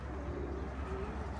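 Returning homing pigeons coo softly at a loft, a low steady murmur with a couple of drawn-out calls and no speech over it.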